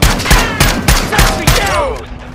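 Rapid bursts of automatic gunfire in Call of Duty: Modern Warfare 2 during a drop zone fight, loud and close, a few sharp volleys spaced across the moment with game effects trailing off.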